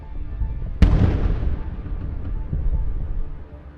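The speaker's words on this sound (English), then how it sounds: "Using artillery units, they strike enemy forces." Artillery fire striking enemy forces near a stalled Russian convoy: one sharp, loud blast whose rumbling boom slowly decays over several seconds, heard alone with no talk.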